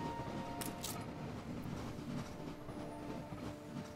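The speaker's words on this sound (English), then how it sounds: "A literal train of trains." Trains run steadily in the city-building game Anno 1800, a continuous low rumble of rail traffic with faint clattering and a few brief high metallic clicks, heard alone and fairly quiet.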